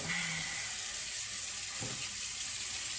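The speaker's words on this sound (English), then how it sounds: "Now I'm just going to take my water and just start rinsing." Tap water pours steadily into a strainer of green beans at a sink, a loud even rush with a brief knock partway through.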